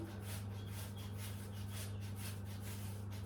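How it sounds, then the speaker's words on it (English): Cooled boiled potatoes grated into a mixing bowl, a quiet, steady rhythmic rasping of repeated strokes close by, with no talk. "So we grate the potatoes into our mixing bowl."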